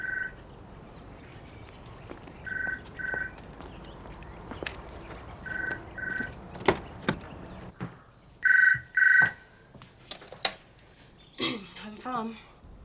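A telephone bell rings in paired double bursts several times in a quiet room, with sparse footsteps and brief speech between the rings.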